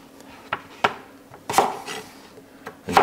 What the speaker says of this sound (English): And just keep cutting.